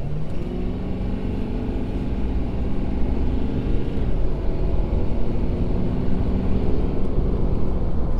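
A 2020 Ford Super Duty pickup accelerates up a highway on-ramp, its steady, loud engine drone and road rumble filling the cabin from start to finish with no talking.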